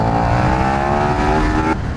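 A 2020 KTM Super Duke R engine pulling hard in sport mode, a loud, close, rising howl that climbs steadily through the revs before abruptly dropping as the throttle closes.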